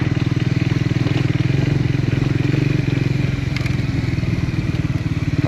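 A motorbike rides down a steep, rough hill on a remote road in northern Thailand, its engine a loud, steady, close rumble throughout with rattling and scraping from the rough surface and no talk.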